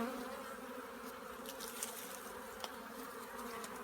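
Honeybees buzz in a dense, continuous drone during a hive inspection, close and steady throughout, with a few brief louder passes of individual bees.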